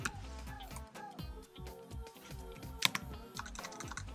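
Keys on a Mac computer keyboard are tapped in quick, uneven bursts while a folder name is entered, a close, light clicking with short pauses between strokes.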